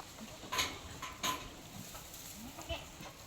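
Goats at a farm pen at dusk, with a couple of short, distinct bleats over a quiet outdoor background and faint clatter.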